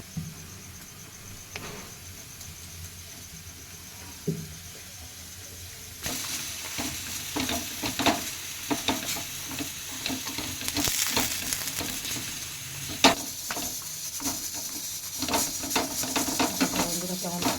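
Methi paratha frying in oil on a pan, quiet at first, then a louder sustained sizzle with crackles and spatter, close up, no speech.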